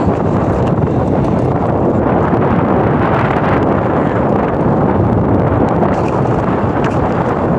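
Strong wind blasts past a cyclist riding in the UAE, a loud, unbroken roar across the microphone with no voices.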